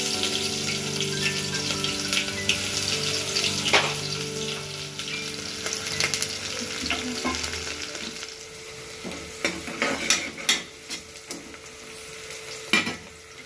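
Onions sizzle and fry in a pan for a chicken curry made in a pressure cooker, with a constant crackling hiss and repeated sharp scraping clatters of a spoon stirring, loud and close, without any talking.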